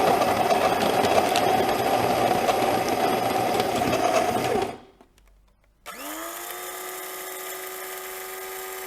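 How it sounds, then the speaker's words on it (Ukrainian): A rotary blade coffee grinder whirs loudly with a high, buzzing whine for several seconds, then cuts off. After a short pause of near silence, a steadier mechanical hum takes over. "давайте порівняємо з роторною ковмалкою, бо напевно її всі чули"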